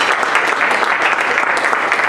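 Dense, loud round of applause for community volunteers at a meeting, a steady close wash of many hands clapping without talk.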